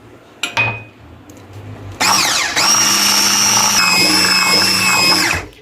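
An electric hand mixer whirs loudly through wet cake batter, starting with a few short bursts before settling into a steady high whine that runs for several seconds and then cuts off.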